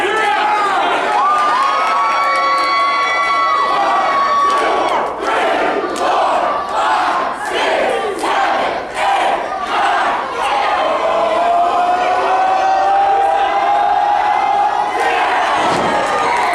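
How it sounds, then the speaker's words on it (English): A pro wrestling crowd at the Colonial Theater roars, chants and shouts without a break, loud and close, with rhythmic chanting and scattered whistles. "Crowd participation at its finest here at the Colonial Theater."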